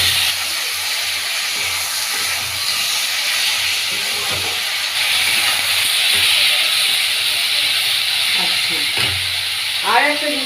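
Garlic paste fries in a pan for a mola carplet fish chachchori, a loud, continuous close sizzle with a few soft stirring scrapes and a brief voice near the end.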